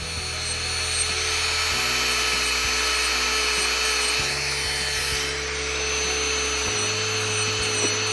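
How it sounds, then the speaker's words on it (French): An electric nail sander files down gel nails with a continuous high whine, its motor pitch stepping up and down several times as pressure shifts, close and steady with no talking. "à quel point je m'approche de l'ongle avec ma ponceuse"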